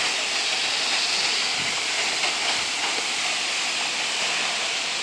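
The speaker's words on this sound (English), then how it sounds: "I think this is the Rainbow Waterfall." The Rainbow Waterfall at Viento Fresco in Monte Verde gives a steady, loud, broadband roar of falling water that fills the scene without pause.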